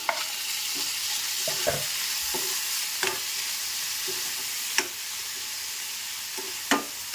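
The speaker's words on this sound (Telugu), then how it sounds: "ఇంకా ఇందులో మనం కట్ చేసి పెట్టుకున్న ఒక రెండు టమాటోస్ని కూడా వేస్తున్నాను" Chopped tomatoes sizzling in hot masala in a pan, a steady frying hiss with several sharp clicks of a spoon stirring against the pan, no voices.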